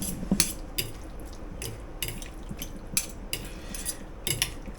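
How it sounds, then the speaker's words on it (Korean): Metal utensils clink and scrape against a dish while spaghetti mixed with mac and cheese is tossed, a series of sharp taps and rattles spaced through the quiet, close by and with no talking. "자 스파게티를 비벼 보겠습니다"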